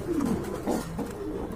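A pigeon kept for sale coos nearby in a few low, soft throaty phrases, clear and close with no talking over it.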